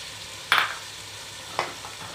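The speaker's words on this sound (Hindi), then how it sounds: "अब हम इसमें टमाटर चॉप किए हुए" Chopped tomatoes hit a pan of frying ginger and garlic for a Shimla mirch chicken curry, giving a soft sizzle with two brief bursts of stirring and spattering, quiet and close.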